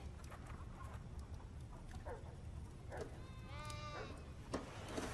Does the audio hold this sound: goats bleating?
yes